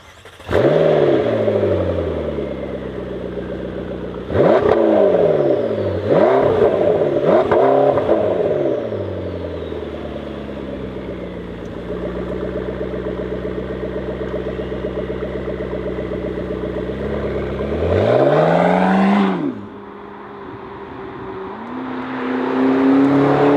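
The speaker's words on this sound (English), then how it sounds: "We are starting our test ride with the McLaren 650S Spider." A McLaren 650S Spider convertible with a 650 hp V8 revs and accelerates hard through several gear changes, loud and close. Its sweeping engine note rises and drops repeatedly, then settles into a steady drone before one final surge and lift-off.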